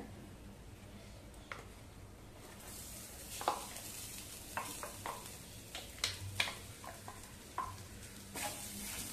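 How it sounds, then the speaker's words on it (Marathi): Ground masala paste sautés in oil with turmeric and asafoetida in a pan over medium heat. A faint, soft sizzle runs under a few quiet scrapes and taps of stirring, and no one speaks. "वाटण चांगलं परतवून घेऊया"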